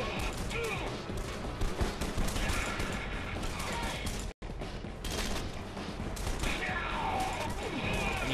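Loud, dense gunfire and crashing in the game Red Faction Guerrilla Remastered, with bursts of shots and impacts nearly continuous, briefly cutting out midway before resuming.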